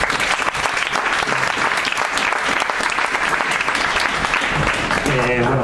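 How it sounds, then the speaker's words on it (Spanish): Sustained, steady applause from an audience at a talk in an Irish pub in Madrid, filling the whole stretch, with a voice starting to speak faintly near the end. "un aplauso y muchas gracias por venir, Jesús."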